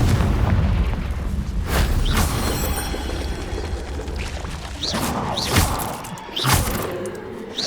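Spell explosions from Bombarda and Confringo in Hogwarts Legacy go off as a string of heavy booms and crashes, some sharp and some rumbling, one after another against a dense game background with no talking.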